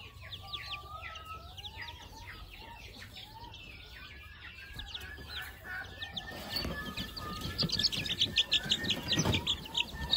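A flock of 45-day-old jungle fowl chickens chirps and peeps in quick overlapping calls, with clucks and rustling growing busier and louder toward the end.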